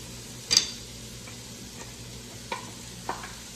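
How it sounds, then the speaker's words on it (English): Onions and garlic frying in a pot, a low steady sizzle broken by a few sharp clinks and scrapes of a utensil being stirred, the loudest knock early on, no speech. "So now I'm just going to move around and brown my onions and garlic."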